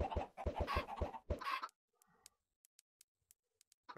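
Chickens in the Minecraft FTB modpack game give a few short clucks after a burst of shouted game noise, followed by sparse quiet ticks.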